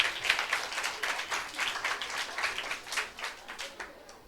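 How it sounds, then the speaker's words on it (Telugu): An audience claps at a church youth meeting quiz, steady scattered applause running throughout at moderate, even loudness. "చప్పట్లు కొట్ట."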